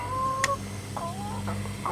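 Big hens cluck nearby in a farmyard, a few short calls and a drawn-out cackle over a low steady background hum, with no talking.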